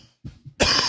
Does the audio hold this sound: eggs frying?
no